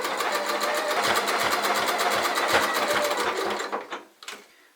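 Sewing machine test-stitching a blanket stitch on scrap fabric, a loud, close, rapid rhythmic whir with regular needle thumps that runs steadily and then slows and stops near the end.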